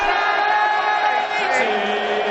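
A packed darts arena crowd of over 5,500 in Manchester roars and cheers, a dense, sustained wall of voices with whoops rising through it.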